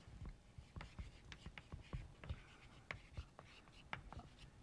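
Chalk scratching and tapping on a board during a biology lecture about antibiotics, a rapid series of short strokes forming words, close and quiet over a soft room hiss.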